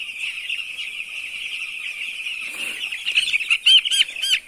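Chicks on a poultry farm, including brown-coloured ones, peep steadily and closely in a dense high-pitched chorus, with louder, sharper chirps rising near the end.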